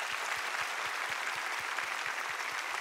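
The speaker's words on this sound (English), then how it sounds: "we clap it out" A sermon congregation claps together in a steady, evenly spaced rhythm of about four beats per second over a wash of general crowd clapping, loud and close.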